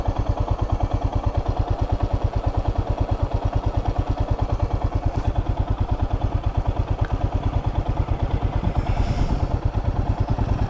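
A Royal Enfield Himalayan motorcycle, 411 or 450, rides on a road near Campo Grande, Mato Grosso do Sul, its engine pulsing in a steady, rapid, even beat, loud and close throughout with no talk.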